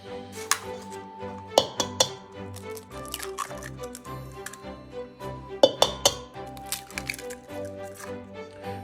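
Four eggs are cracked into a bowl of chocolate chip cookie dough, giving sharp clinks of shell against the bowl edge and wet drips and squishes, several distinct taps spaced irregularly in a quiet kitchen.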